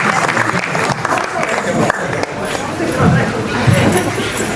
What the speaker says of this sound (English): I think we ought to give her another round of applause